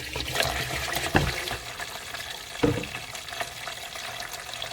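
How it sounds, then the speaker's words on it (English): Diesel fuel being poured into the top of a fuel filter bowl, a steady liquid trickle and pour with a couple of brief louder splashes, close and alone. "Pour some more fuel into the top."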